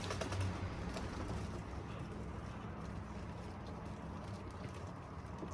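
Pigeons let out of their coop before cleaning, soft low cooing and fluttering in a continuous outdoor hum, faint and distant with no one speaking.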